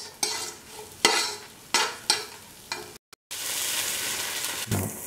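Okra stirred in a hot frying pan with a quarter spoon of turmeric powder, a spoon scraping in repeated strokes over a steady sizzle, close and clear with no talking.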